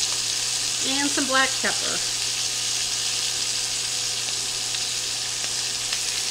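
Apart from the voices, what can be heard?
beef roast searing in a pan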